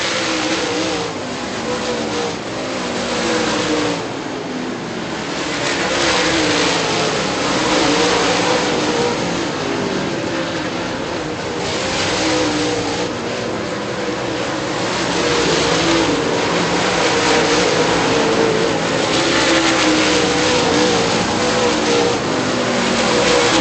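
Race cars roaring around a track during a Super Late Model feature, a continuous loud engine drone that swells and fades as cars pass, steady throughout with no talk.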